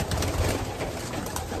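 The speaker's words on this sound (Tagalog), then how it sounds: "Ito yung ibon ni Kuya Warren." Pigeons in a breeding loft coo in low, soft, throaty rolls, close by and continuous over a dense, noisy background, with no talk.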